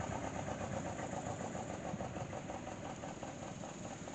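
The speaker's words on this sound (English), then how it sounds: "Now this is a Moline Universal tractor." A 1918 Moline Universal tractor engine runs at a steam and gas engine show, giving a steady, dense mechanical chugging and rumble that stays even throughout. No one speaks.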